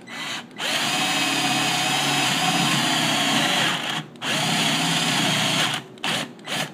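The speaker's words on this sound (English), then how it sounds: "So we'll take our 3/4 paddle bit." A 3/4 inch paddle bit drills a hole for a keyed cam lock in a drawer or cabinet, a loud steady whine running for several seconds, briefly easing off twice and stopping in short bursts at the end.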